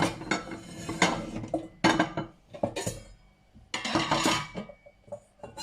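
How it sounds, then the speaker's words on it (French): Ceramic bowls and metal utensils clink and clatter on a kitchen counter as a bowl is set out for cut potatoes for a purée, with several sharp knocks and rattles at close range. "Faut préparer un récipient pour mettre les pommes de terre dedans."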